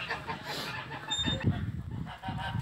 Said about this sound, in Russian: гуси орут со всех сторон.